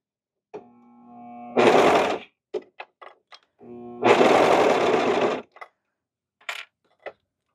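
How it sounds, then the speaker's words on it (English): A serger sewing machine whirs in two loud sustained runs as it stitches and trims the excess seam allowance off cardigan fabric, with small clicks and taps between and after the runs and no talking. "It is nice when you are making clothes and you're serging. It just cuts your excess seam allowance off."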